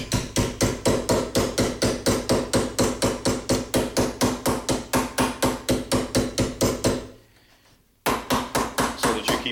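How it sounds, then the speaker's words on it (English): A mallet forms a metal flange over a forming block for a rear rib, striking in a fast, even rhythm of about four blows per second, close and loud, with one short pause before the hammering resumes. "You don't want to hit with the edge of the mallet on the material though, because you can dent it"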